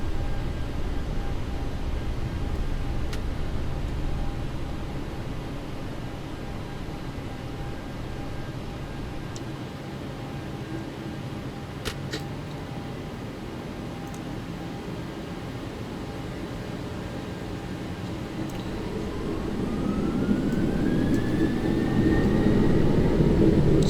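A Boeing 737-800 jet taking off in the X-Plane 11 flight simulator, a steady broad engine roar with a faint high whine, swelling louder and brighter toward the end as thrust builds, no voices.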